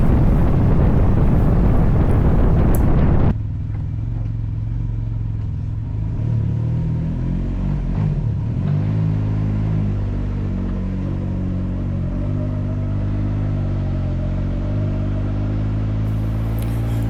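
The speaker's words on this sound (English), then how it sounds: "let's ride for a little while" A Can-Am Ryker three-wheeled motorcycle rides along with a steady engine drone and heavy wind buffeting the microphone, loud and continuous, after a brief louder roar at the start.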